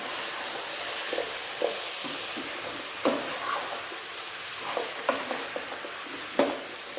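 Chicken stew with potatoes, salt and black pepper sautéing in a pan, a steady sizzle with scattered scraping stirs and clinks, close and moderately loud with no voices.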